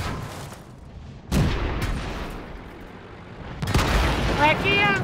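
Tank guns fire in the World of Tanks game, two heavy booms a couple of seconds apart, each with a rumbling, reverberant tail, while players' voices come and go around them.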